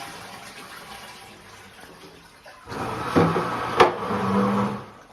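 A bucket of water is dumped into a Saniflo upflush toilet bowl, a quiet lead-in followed by a loud gushing splash and rush of water with a sharp knock partway through.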